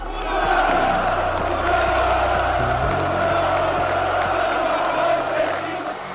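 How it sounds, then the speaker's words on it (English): A large outdoor crowd at Nicolae Ceaușescu's speech in Romania roars and boos in a continuous loud wall of voices, with a low hum beneath and a brief amplified voice rising above the din. "when he's speaking, his quote-unquote supporters are booing him"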